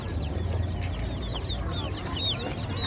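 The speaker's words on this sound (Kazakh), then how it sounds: "Қандай тауық мынау?" Chickens clucking and chirping in short, scattered calls over a low background hum, moderately close, at a poultry and pet market in Kyzylorda.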